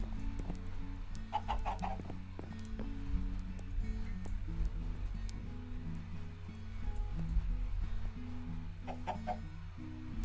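Chickens in Minecraft cluck in short, repeated bursts over a steady low background, several separate clucking calls spread across the stretch with no talk.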